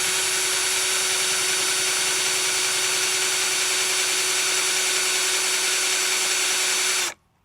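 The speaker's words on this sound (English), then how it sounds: "then you just start drilling until you catch something" A power drill whines continuously at a steady high pitch for several seconds, loud and close, then cuts off abruptly, drilling into a 1980 Lincoln Town Coupe barn find.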